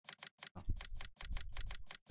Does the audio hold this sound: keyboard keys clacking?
yes